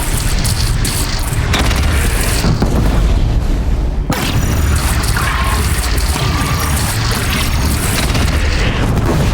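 A bridge shot down and exploding in Horizon Zero Dawn, with a sustained loud roar of booming blasts, crashing debris and rumbling collapse filling the whole stretch.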